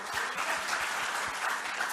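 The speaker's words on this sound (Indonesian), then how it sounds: "Beri tepuk tangan dong." An audience at a Christian business fellowship convention in East Java claps together, a dense steady round of applause that stays loud throughout.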